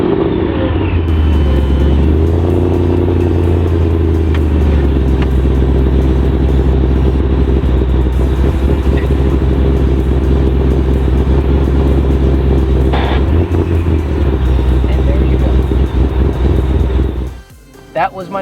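A Ford GT500 engine runs loud and close with a steady low rumble and whining drivetrain tone, shifting pitch briefly early on, then cutting out near the end.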